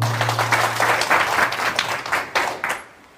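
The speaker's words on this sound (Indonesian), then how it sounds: "Oke, aplaus buat kita semua." An audience at an Eco Racing seminar claps together in a burst of loud, close applause that swells and then tapers off abruptly at the end, with a low hum beneath it early on.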